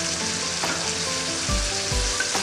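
Fish sarciado sauce seasoned with black pepper and fish sauce bubbles in a pan, a continuous close sizzle with a few soft low thumps of the pan or spoon, no voices.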